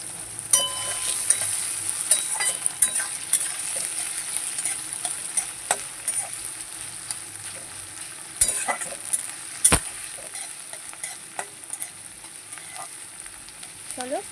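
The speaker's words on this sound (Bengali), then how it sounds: "কড়াতে আমি দিয়ে দিয়েছি পেঁয়াজটা ভাজতে দেখো এবার পেঁয়াজটা লাল লাল হোক" Onions fry in oil in a wok that has just held fried potatoes, giving a steady soft sizzle broken by sharp scraping and clinking strokes of a spatula as they are stirred, with no talking.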